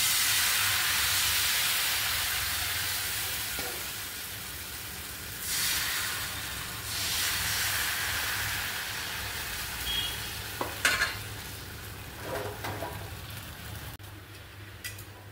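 Thin rice-flour neer dosa batter cooking on an oiled pan over low heat, a soft continuous sizzle and hiss with a few light scrapes and taps near the end.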